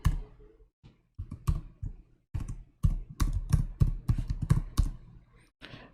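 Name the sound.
typing a name and email address on a computer keyboard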